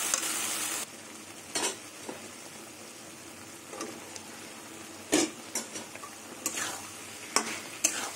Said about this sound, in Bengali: এই ডাঁটা দিয়ে কিছুক্ষণ একটু কষিয়ে নেব।